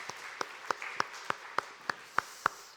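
A church congregation claps together during a Sunday morning worship service, with about nine sharp, evenly spaced hand claps in a steady rhythm over a soft hall ambience.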